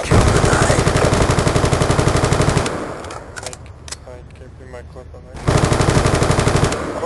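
Rapid automatic gunfire from the Call of Duty Black Ops 2 video game hammers loudly, breaks off for a couple of seconds of quieter scattered noise, then resumes in a dense, steady stream.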